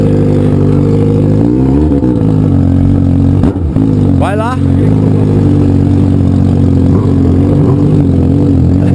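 Red metallic Honda Hornet motorcycle engine running steadily close by, its low droning hum rising slightly in revs, with people shouting and talking over it.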